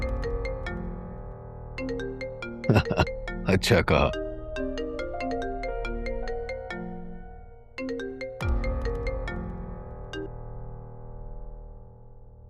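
A phone ringtone sounds from a repeated incoming call, a melodic electronic tune that keeps playing as someone talks over it.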